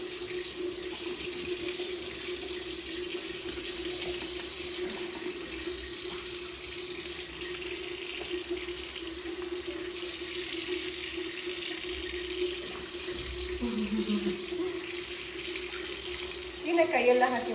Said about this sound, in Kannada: ಕೈಯೆಲ್ಲ ಹಾಕಿ ವಾಶ್ ಮಾಡಿ